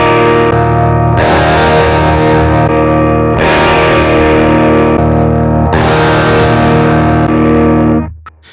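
An electric guitar plays sustained chords through a Sonicake effects pedal, and each strike has a different tone as the pedal switches between impulse-response cabinet positions. Four loud, ringing chords sound alone, and the last one is cut off abruptly.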